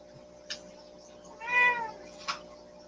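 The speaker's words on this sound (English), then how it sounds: "She always meows." A domestic cat meows once, a clear mid-length call with two short fainter chirps around it, close by in an otherwise quiet room.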